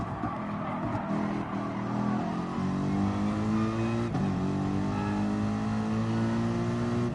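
Race car engine during a video game race at the Nürburgring 24 hour: a loud, steady high-revving drone that climbs in pitch, briefly drops on a gear change, then keeps climbing, heard up close and alone.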